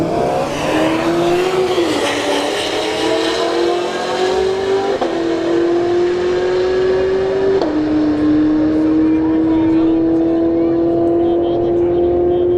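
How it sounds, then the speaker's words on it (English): A Cadillac CTS-V and a Subaru WRX launch in a drag race at Bradenton Motorsports Park, engines roaring loudly and climbing in pitch through several gear shifts, with crowd and announcer voices beneath. "Cadillac CTSV versus a Subaru WRX"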